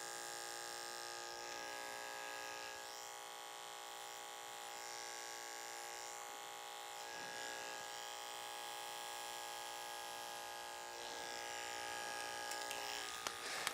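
Detachable blade hair clipper cutting hair, a steady, close electric buzz that runs continuously with slight changes as the blade moves through the hair.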